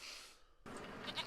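Sheep or goats bleat from a film soundtrack, a faint brief call followed after a sudden cut by a brighter, louder stretch of noisy sound.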